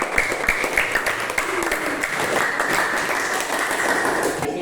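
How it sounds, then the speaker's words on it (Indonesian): Steady applause from a classroom audience at a teacher training session, dense and sustained for several seconds at moderate loudness, with a faint voice mixed in. "tepuk tangan"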